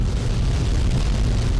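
A nuclear explosion in the video game Fallout 3, fired by the robot Liberty Prime, a loud sustained low rumbling roar that fills the whole moment.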